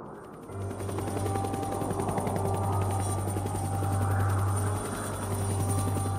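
Helicopter rotor sound effect in an anime-style scene, a steady loud thudding drone with an engine hum that holds for the whole stretch, with no talk over it.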